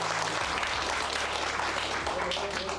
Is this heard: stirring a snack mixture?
no